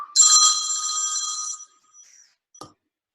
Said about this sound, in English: I got to turn my phone off.